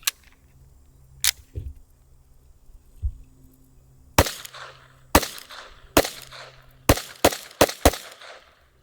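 Sharp gunshots from a Smith & Wesson M&P 22 Magnum pistol, a few spaced single shots early, then a quicker string of about seven loud cracks in close succession, each with a brief decaying tail.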